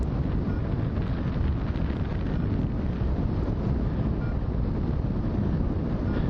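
Strong wind blows steadily past a hillside during a paragliding flight, roaring and buffeting the microphone as a loud, continuous rush with no break.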